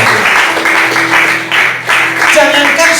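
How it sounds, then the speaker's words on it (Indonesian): Church congregation at an Indonesian Sunday sermon claps together in a loud, steady burst, with a preacher's voice running over the applause. "Tepuk tangan bagi Allah."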